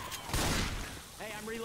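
Gunfire in Left 4 Dead 2, a burst of shots with a loud crack near the start, then dense rattling fire with voices and game sounds over it.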